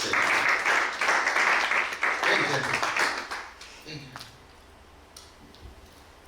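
A church congregation claps together during a worship service. Dense applause fills the first four seconds, then fades to a quiet room with a few stray claps and faint voices.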